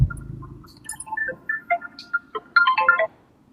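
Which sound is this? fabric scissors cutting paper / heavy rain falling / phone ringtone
phone ringtone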